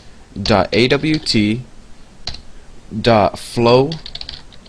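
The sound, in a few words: typing code on a computer keyboard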